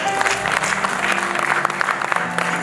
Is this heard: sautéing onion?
no